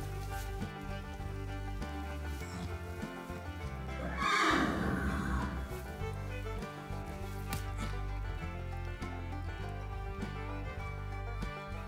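Arabian horses at a stable where a foal has just been born, neighing and whinnying loudly in one burst partway through, over a steady background of hooves and movement with no talk.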